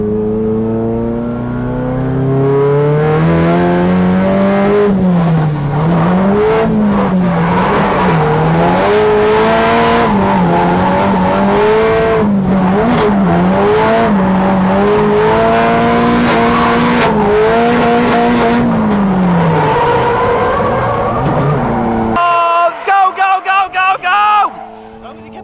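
A Nissan S13 drift car with a new Samsonas sequential gearbox revs loudly and holds its engine note through a long drift, the pitch wavering with throttle, before sharp gear-change bursts near the end.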